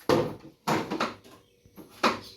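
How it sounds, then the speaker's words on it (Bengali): A house door is knocked and pushed from outside on a rainy day, giving about four heavy, separated thuds and rattles spaced irregularly over a couple of seconds, close and fairly loud. "দাদু বাইরে দরজা ধাক্কাচ্ছে,"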